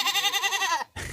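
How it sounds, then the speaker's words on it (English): Young male Nubian goats kept for goatscaping on a hillside bleat loudly: one close, wavering, pulsing cry for under a second, then a brief gap before rougher noise resumes. "They're 5 young male Nubian goats who are the hill's newest employees."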